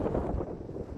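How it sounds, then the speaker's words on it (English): Strong wind gusts buffet the microphone outdoors on a cold day, producing a low, rumbling, uneven roar that stays loud through the whole second with no voices. "very windy."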